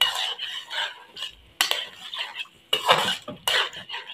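Boneless chicken with yogurt being stirred and fried in a karahi, a spatula scraping and clanking against the pan in several short bursts over a faint sizzle, with no talk.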